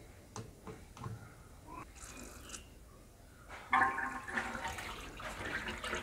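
Air and water gurgle and sputter out of an opened water pump line, starting with quiet drips and bursts, then surging into a louder rushing, bubbling flow.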